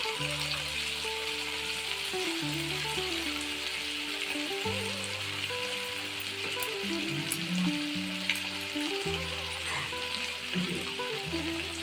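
Cauliflower manchurian sizzles steadily in a hot pan as soy sauce goes in, a dense continuous frying hiss with some stirring over a constant low background tone.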